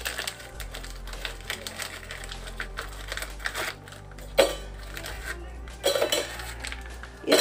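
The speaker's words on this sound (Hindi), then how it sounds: "तो ओरियो के पूरे पैकेट हम इसमें डाल देंगे।" Hard Oreo biscuits clatter and knock into a mixer jar in a rapid series of small clicks and taps, with a low steady hum underneath.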